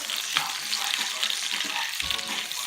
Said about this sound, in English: The chicken continues to sizzle and nizzle on that pan.